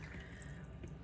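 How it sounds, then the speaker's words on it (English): Water poured into a pot of yellow potatoes with sausage and vegetables for a sausage potato soup: a steady, close, continuous liquid splash with no voices. "I'm adding about 3 more cups of water to these yellow potatoes"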